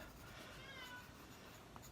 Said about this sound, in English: There is a very hungry cat scratching at the door.